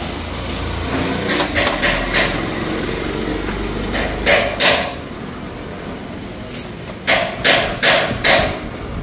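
Yamaha Sniper 150 motorcycle engine with a worn, scraping block, giving sharp metallic knocks in short clusters over a steady low running rumble, close by and fairly loud.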